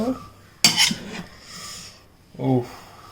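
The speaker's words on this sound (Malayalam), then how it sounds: "ഞാനിത് ഇളക്കി കാണിച്ചു തരാം." A spoon stirs chicken biryani in a pot before serving, giving a sharp metallic clink followed by soft scraping rubs through rice, then another brief scrape; close and fairly quiet.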